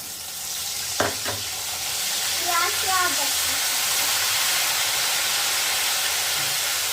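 Banana chips fry in hot oil with a steady, loud sizzling hiss, a couple of sharp clinks near the start, and a brief voice over the frying.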